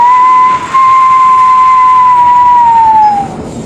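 An eerie sustained whistle sound effect holds a steady high tone, loud and close, then bends downward near the end as if passing by, over a dense rumbling background with no talk.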